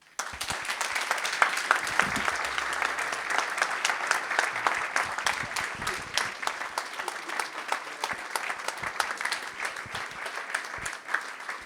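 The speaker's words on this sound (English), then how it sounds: "Please, can we get another applause?" A conference audience applauds steadily after a keynote talk, dense clapping filling the room for several seconds before thinning slightly toward the end.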